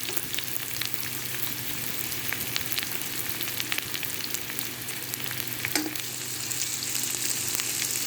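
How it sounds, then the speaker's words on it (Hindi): Medium-sized chopped onions frying in a pan with whole black pepper and black cardamom, a dense continuous sizzle with occasional stirring scrapes, close and steady throughout. "अब हम प्याज फ्राई करेंगे।"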